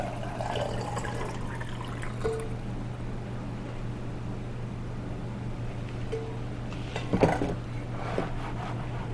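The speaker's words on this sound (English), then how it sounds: "pour the rest of it in" Cochineal-tinted vinegar is poured over pickled eggs in a jar, a soft steady trickle of liquid over a low hum, with a brief clink of glass near the end.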